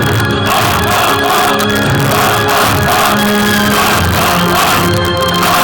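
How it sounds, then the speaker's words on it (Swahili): A large crowd at a clan chief election cheers and shouts continuously, loud and dense, with massed voices raising battle-cry-like calls throughout. "Watu wanashangilia leo."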